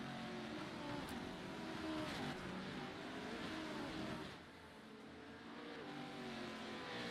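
Race cars at Crandon, apparently an off-road short-course track, roar continuously nearby, with engines revving and passing in a dense wash of motor noise that dips briefly before building again.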